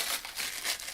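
Foil wrapper being torn off a Godiva double chocolate dome: a short burst of dense, close crinkling and tearing.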